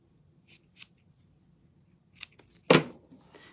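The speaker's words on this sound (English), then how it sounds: "I'm going to cut a little bit off of mine." Scissors snip a small piece off craft material, a few short crisp cuts close by after two light snips, alone without talk.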